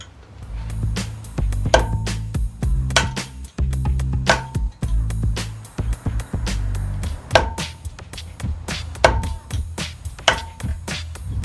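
Metal tools clattering and clinking as a toolbox is rummaged through during work on a Citroën Xsara rear hub, a loud, close, irregular series of knocks and rattles with short pauses.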